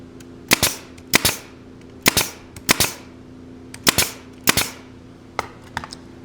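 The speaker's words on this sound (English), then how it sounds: "I'm going to take my nail gun and I'm going to put 2 nails in each one of the slats of the table" Nail gun firing nails into wooden slats of a small picnic table, about ten sharp, loud cracking shots at irregular intervals with short gaps, over a steady low hum.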